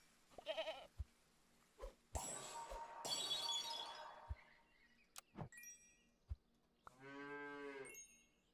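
A goat sound effect from the Super Auto Pets video game, with several short bleats and one long wavering bleat near the end, separated by clicks and brief rushing game effects.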